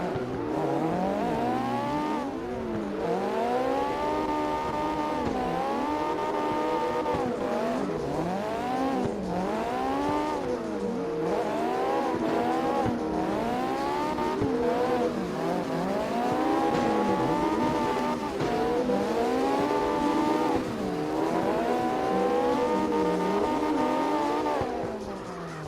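A Phoenix NX drift car in CarX Drift Racing Online roars through repeated rev surges and gear shifts, its tyres squealing steadily throughout, loud, close and sustained for the whole run with no voices.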